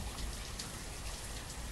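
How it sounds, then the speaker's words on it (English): Steady rainfall in the city-building game Banished, a dense, even hiss of drops that fills the whole stretch at constant loudness, close and unbroken, with no voices. "I hate rain, it's really loud and annoying."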